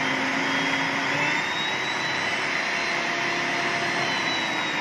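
An electric mixer whirs loudly and steadily while blending hot chili harissa with salt, a dense, unbroken grinding roar that runs the whole time with no talk.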